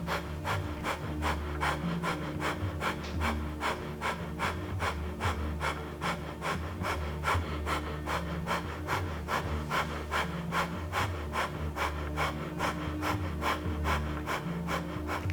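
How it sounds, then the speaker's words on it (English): Rapid, rhythmic breath of fire during a Kundalini yoga class, forceful nasal exhales pumping steadily at about two per second for the whole stretch, close and even with no talking. "and breath of fire."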